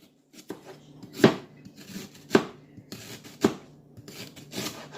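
A knife chops through fresh ginger on a cutting board: three distinct sharp strikes spaced about a second apart, with softer scraping and rubbing sounds between and after, close and clear.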